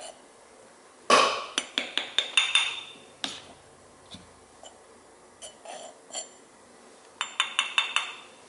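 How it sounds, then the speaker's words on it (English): Alginate powder being scooped and leveled with a spatula, a series of sharp clinks and taps in quick clusters with quiet gaps between, close and fairly faint. "when you scoop your powder, don't put kind of tap it on the side, just do a nice scoop and then use your spatula to smooth it out"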